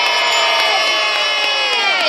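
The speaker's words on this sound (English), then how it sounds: "Who's going to cheer for Bailey?" A live audience at a zoo sea lion show cheers loudly, a dense, continuous wall of shouting and whooping voices with many children's voices mixed in, close and sustained throughout.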